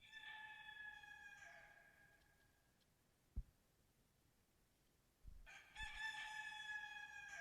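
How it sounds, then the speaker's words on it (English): A rooster crows on an album track, two drawn-out cock-a-doodle-doo calls separated by a quiet gap with a couple of soft thumps, moderately close and alone. "I still never understood the rooster."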